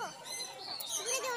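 Birds at a bird fair, among them macaws, cockatoos and lovebirds, give brief chirps and tweets from nearby amid a faint murmur of crowd.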